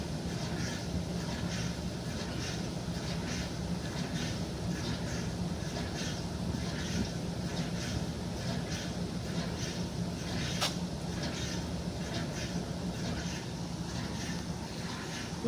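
A 1957 Speed Queen solid-tub washer runs with a steady, low, even rumble and a soft rhythmic churning, fairly quiet and continuous throughout.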